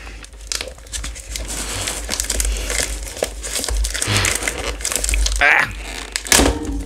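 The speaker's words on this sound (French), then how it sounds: "Si j'arrive à ouvrir la boîte évidemment. Toujours très chiant à ouvrir" Crinkling plastic wrap being torn and crushed from a sealed Pokémon card display box, a continuous close rustle with sharper tearing bursts toward the end, with speech in places.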